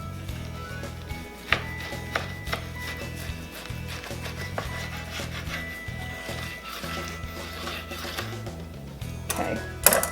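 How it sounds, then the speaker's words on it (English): A knife slices through a raw beef brisket on a board, halving it for a slow-cooker beer brisket: close, steady rubbing and sawing strokes with a few sharper knocks, over a low background hum and no speech. "I'm just going to cut it in half"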